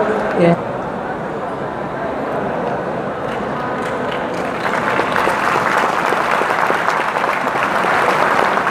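Loud audience applause fills a hall at a college inauguration event in Patna, a dense sustained patter of many hands that swells louder toward the end, with a brief voice near the start.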